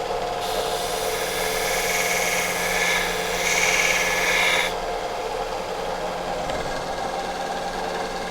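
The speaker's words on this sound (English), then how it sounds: "I may file between these just to make them level, get rid of any lumps and bumps" A metal file rasps steadily across a homemade leather working tool, evening out lumps on its prongs. The rough scraping runs continuously and close for the whole stretch, growing a little stronger in the middle.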